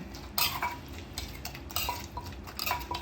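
Fish, a little fish sauce and seasoning powder pounded together in a mortar for Isan-style eggplant soup: a close run of uneven knocks and clatters with short pauses between strikes.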